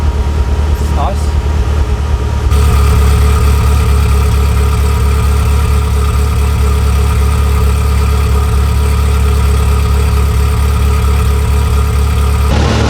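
A Ferrari F40 engine idling loudly and steadily nearby, a deep throbbing rumble that holds constant throughout.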